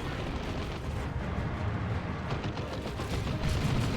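Ork looted tank firing its boom gun in the Dawn of War 2 strategy game, a dense, sustained rumble of heavy blasts and battle noise rolling steadily throughout without speech.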